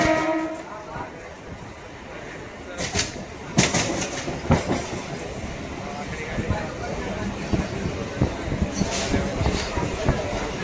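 A passenger train runs on rails with a continuous rolling rumble and rhythmic clickety-clack of wheels over joints. Louder metallic bursts come and go, and faint voices may sit under the noise.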